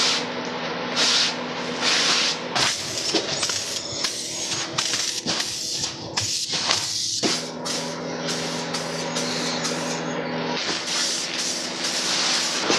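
A spray gun lays white paint onto the front fender of a Honda motorcycle, sending out several loud, close hissing bursts separated by brief pauses.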